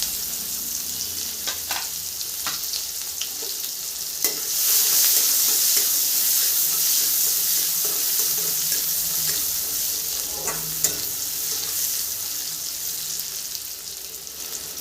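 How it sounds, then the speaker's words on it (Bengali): Chopped onions dropped into hot oil left from frying fish hiss in a loud, steady broadband sizzle, close up, with brief stirring clatters and no speech. "সেই তেলে আমি দিয়ে দিব পেঁয়াজ কুচি"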